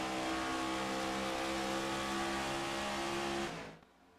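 Race cars battling on track, a dense, loud engine roar holding steady for several seconds before abruptly dropping away as the cars pass.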